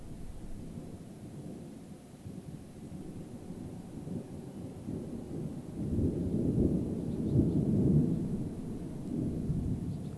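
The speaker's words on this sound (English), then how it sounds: "There's some thunder in the distance." Low rumbling thunder rolls in the distance within an outdoor wind recording, swelling into a louder, longer roll toward the end against a steady background hiss.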